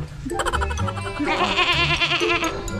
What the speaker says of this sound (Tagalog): Kakabili lang namin na kambing.